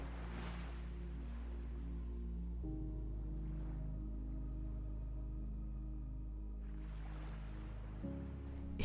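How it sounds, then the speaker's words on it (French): Ocean waves wash in a steady, soft surf under a low, constant hum, with gentle swells rising near the start and again toward the end; no voices. "Écoutez, écoutez simplement le chant des vagues."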